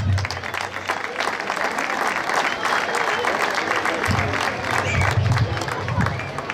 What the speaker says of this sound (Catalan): al que rebem aquest aplaudiment